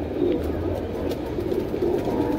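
Sharangpuri pigeons coo softly and repeatedly at a pigeon seller's home in Kurla, Mumbai, over a low, steady background hum.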